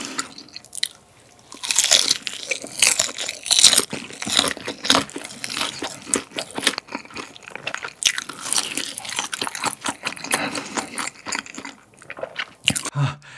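Crunchy mala-spiced Sichuan fried chicken being bitten and chewed up close, a dense run of loud, sharp crunches and crackles in quick irregular bursts with no talk.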